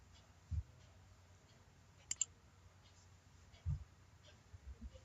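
A computer mouse clicking a few times, sharp isolated clicks close by against a quiet room with faint background noise.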